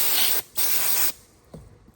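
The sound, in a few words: spraying cleaner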